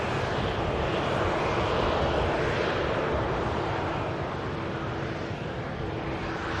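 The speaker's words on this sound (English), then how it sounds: "Aer Lingus UK aircraft as well, one of the two aircraft they have in their fleet, with the Airbus A330 on the taxi up." An Aer Lingus UK Airbus A330 taxis at Manchester Airport, its engines giving off a loud, steady jet roar and whine that holds throughout.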